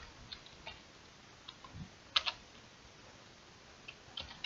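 Sparse, faint keystrokes on a computer keyboard tap out a few scattered clicks over a quiet background, with one slightly sharper pair of taps in the middle and no talking.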